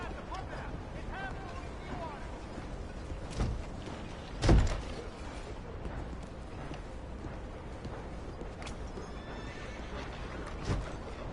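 Horse in the Red Dead Redemption 2 video game neighs once loudly near the middle, with a shorter whinny earlier and another near the end, over a steady ambient bed of background chatter and low rumble.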